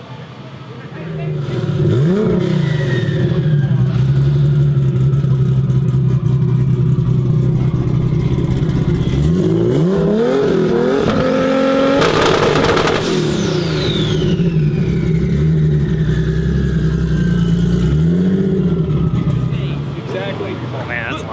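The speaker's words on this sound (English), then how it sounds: "we just took the whole exhaust off and we're gonna run the open downpipe only. So it's crazy loud" Race car with the exhaust removed, running an open downpipe only, revs loudly and rawly, the engine note climbing and falling through repeated sustained pulls, very close and dominant throughout.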